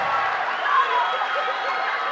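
A big crowd roars and cheers steadily in a gym during a boys' high school basketball game, a dense wash of voices with no break.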